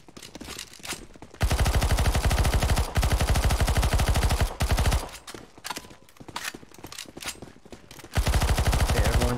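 Rapid, loud bursts of automatic gunfire from players shooting zombies in the CS:GO Zombie Escape mode, coming in long sustained volleys broken by short gaps and scattered single shots.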